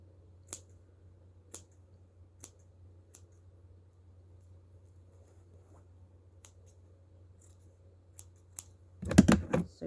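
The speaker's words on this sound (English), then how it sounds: "So you just trim all these loops like so" Scissors snip through loops of yarn while trimming a yarn puppy's ears, sparse sharp close cuts spaced a second or more apart in a quiet room, ending with a louder rustling handling noise.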